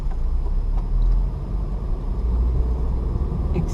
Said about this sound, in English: Still rolling, first gear, clutch up, accelerate away.